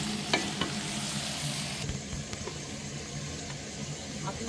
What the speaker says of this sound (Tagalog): Lutuin natin yung squid.